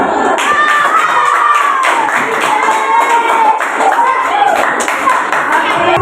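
A classroom of students applauds together, dense steady clapping filling the room from start to finish at fairly loud level.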